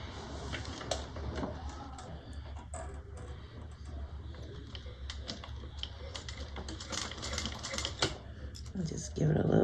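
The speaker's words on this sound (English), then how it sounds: "that's where I'm going to start stitching" A domestic sewing machine with a piping foot stitches close to fabric piping, rapid mechanical clattering in short bursts with brief pauses, heard close and under occasional talk.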